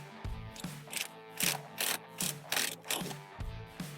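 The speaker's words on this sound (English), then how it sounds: "I gotta take off this 10mm bolt. Now you need a long 10mm socket" A ratchet with a long 10mm socket working an alternator bolt loose on a Chevy Express, giving close, crisp bursts of clicking in short rhythmic swings, about eight strokes, with no voices.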